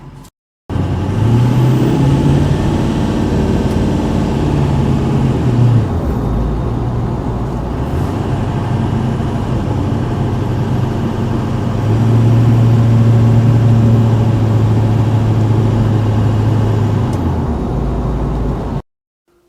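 A Subaru car is driven slowly out to a truck through a tight squeeze, its engine giving a loud, close, steady rumble with low droning tones that swell briefly before cutting off.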